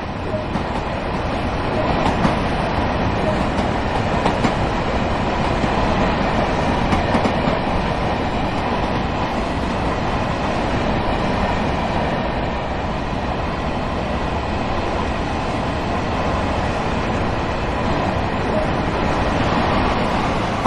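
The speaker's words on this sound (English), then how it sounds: "You are currently riding an M7 electric multiple unit formed of four A and B coach pairs" An M7 electric multiple unit of four A and B coach pairs runs in Train Sim World 2020, with a steady rolling rumble and soft rhythmic clickety-clack sustained from inside the train.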